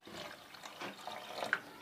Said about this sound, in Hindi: इसमें मैं डालूँगी तकरीबन 1 गिलास पानी